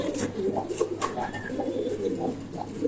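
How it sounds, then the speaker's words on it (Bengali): Male pigeons coo softly as they move one by one into their cages in a pigeon loft. The coos are fairly faint, with light rustling and a low steady hum underneath. "দেখবেন কবুতর গুলো কিন্তু আস্তে আস্তে সব ভিতরে ঢুকে যাবে।"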